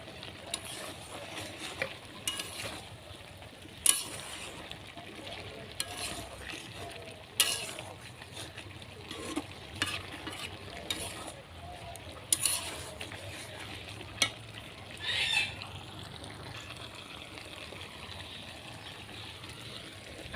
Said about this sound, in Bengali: টমেটোটা দিয়ে দেব দিয়ে এটা খুব ভালো করে কষিয়ে নেব